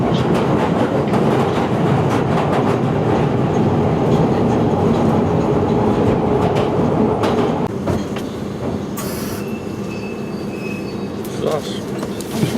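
A London Underground train runs on the line, a loud steady rumble with clattering wheels that eases slightly near the end, while a recorded station announcement and passengers' voices sound over it.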